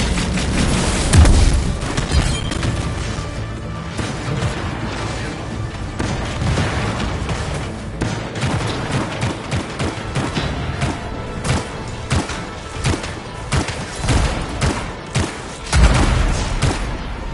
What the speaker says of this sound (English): Hear that? Sounds like a war.